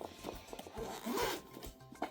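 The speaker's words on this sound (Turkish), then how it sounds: "Kalem kutunu aç bakalım neler çıkacak." A pencil case zipper is dragged open in several quick, scratchy pulls with brief pauses, close and quiet.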